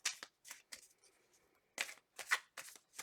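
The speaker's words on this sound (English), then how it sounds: "Two more shuffles." Tarot cards being shuffled in several quick riffling bursts, close and crisp, with short pauses between.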